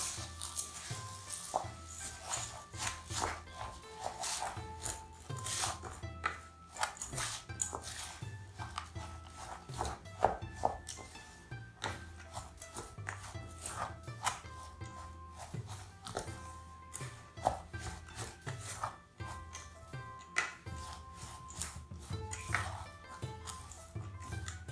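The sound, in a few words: stirring puffed rice into melted jaggery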